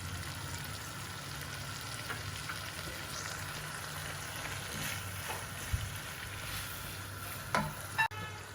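Aloo gobi sabzi with fenugreek and coriander sizzles steadily in a pan while a spoon stirs and scrapes through it, with a couple of brief clinks near the end.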